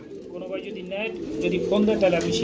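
Danish pigeons coo softly and repeatedly close by at a pigeon seller's loft while someone talks over them.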